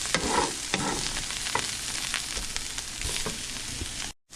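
Lobster mushrooms sizzle and crackle steadily in a hot pan while being stirred, close and loud, with the scrape and clack of the utensil against the pan now and then until the sound cuts off.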